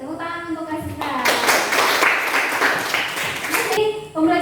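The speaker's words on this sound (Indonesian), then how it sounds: "Oke, tepuk tangan untuk Nasisa." A classroom chemistry lesson where students give a short burst of clapping for a classmate. Brief scattered applause rises and fades between stretches of a teacher's voice talking.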